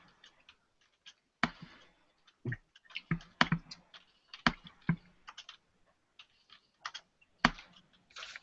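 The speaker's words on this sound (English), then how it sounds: "who's clomping on their keyboard?" Someone clatters away on a computer keyboard, heavy keystrokes arriving in irregular bursts and single loud taps, close and clear with no talking.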